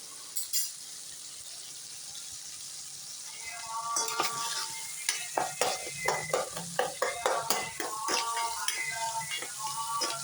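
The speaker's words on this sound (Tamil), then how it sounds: "நல்லா வதங்கட்டும்." Ingredients for sambar are sautéed in a pan with a soft sizzle under brisk, rhythmic stirring, a spoon scraping and clinking against the metal in quick, close strokes.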